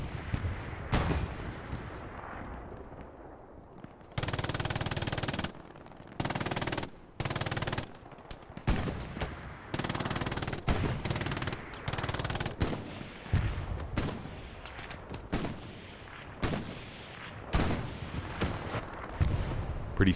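MG42 machine guns in the video game Hell Let Loose fire in long, loud, rapid bursts, some near and some farther off, separated by short pauses and occasional scattered shots.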